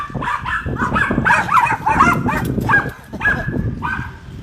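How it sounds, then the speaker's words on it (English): Several small dogs bark and yip excitedly in a rapid, overlapping burst, close and fairly loud, with a brief pause before the yapping resumes. "All my favorite little dogs."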